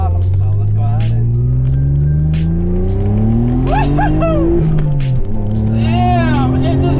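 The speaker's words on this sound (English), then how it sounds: "It's gonna be first time for me going full throttle." A 1997 Mitsubishi 3000GT VR4 accelerates hard at full throttle, its engine note climbing loudly through the gears with brief shift dips, heard from inside the car with a person talking over it.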